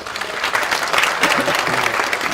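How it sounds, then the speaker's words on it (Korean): An audience welcomes guests with steady, dense applause at a 2018 small business support policy briefing, with a faint voice underneath. "큰 박수로 환영하여 주시기 바라겠습니다"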